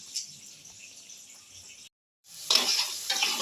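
Sizzling of onions frying in a pan for chicken curry, with stirring, broken by a brief silence, then louder, busier frying sizzle returning up close.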